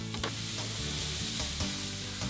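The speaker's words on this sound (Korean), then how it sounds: "오미나 병장은 다진 재료를 한번 볶아서 속재료를 만들 생각입니다." Chopped filling ingredients sizzle and crackle steadily in hot oil as they are stir-fried for gimbap at an army cooking contest, loud and close with occasional stirring scrapes and no talk.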